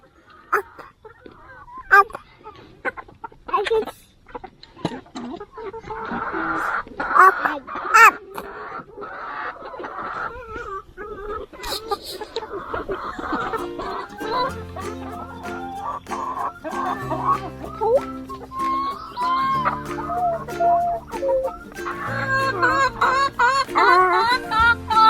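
Backyard chickens cluck and squawk repeatedly while eating food thrown to them, with irregular close calls, and later a steadier background hum joins them.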